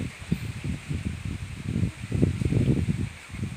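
Wind gusts through banana plant foliage, producing a continuous soft rustle of leaves that swells and fades in uneven waves, fairly close and with no voices.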